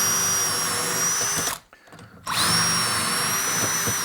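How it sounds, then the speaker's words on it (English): A power drill bores two 8mm holes in wood for a router table, running loud and steady, stopping briefly partway through, then spinning up again to continue. "what we're drilling there are 2 8mm holes"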